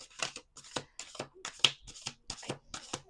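A deck of playing cards riffled repeatedly, about seven crisp bursts of flicking and slapping in a steady rhythm, close and fairly loud with brief pauses between shuffles.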